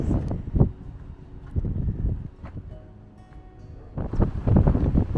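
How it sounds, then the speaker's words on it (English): Gusty wind buffets the microphone in low rumbling bursts on a trail at Dinosaur National Monument near Vernal, Utah, easing in the middle and then surging again near the end. "It's a little windy."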